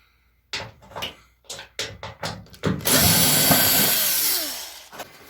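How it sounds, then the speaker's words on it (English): A power drill backs screws out of the lower panel of a Kenmore front-load washing machine, starting with a series of short whirring bursts, then one longer sustained run that spins down, loud and close with no talking. "I'm going to go ahead and remove these 2 screws from down at the bottom"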